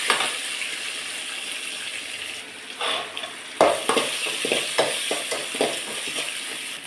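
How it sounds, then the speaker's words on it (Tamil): Onions frying with salt in a pan for a snake gourd poriyal meal, a steady sizzle broken by a series of sharp scraping stirs in the second half, with no talking. "வெங்காயம் வதங்கட்டும்."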